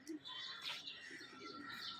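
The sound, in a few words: pigeons cooing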